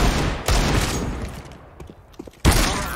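AK rifle fire in CS:GO, a rapid loud burst at the opening, then quieter clicks and shots, and another sharp heavy burst near the end.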